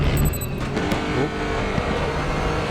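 A Nissan GT-R GT3 race car in the RaceRoom racing game lapping the Nordschleife, its engine loud and continuous through an aggressive downshift. The engine roars steadily with no speech.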